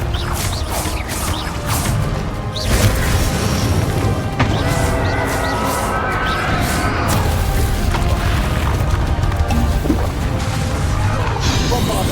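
Spell explosions and blasts from the Confringo blasting curse in Hogwarts Legacy, a loud, dense barrage of booms and crashes with whooshes running continuously through a chaotic battle.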